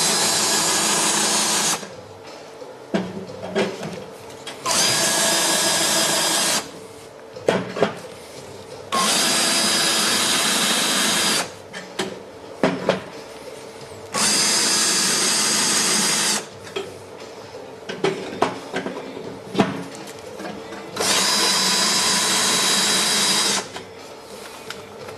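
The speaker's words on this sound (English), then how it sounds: "drilling to tapping size" A power drill with an 8mm bit whirs in four sustained bursts of several seconds each, with clunks and handling noises in the pauses between.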